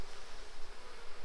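A full honeybee hive hums with fanning workers after smoke, a continuous soft buzzing drone heard close up and alone, steady without breaks.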